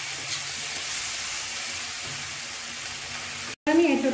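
Jackfruit frying in a pan with onion, tomato, ginger and garlic for a prawn curry: a steady, close sizzling hiss with no break, a short cut near the end, then a louder clatter.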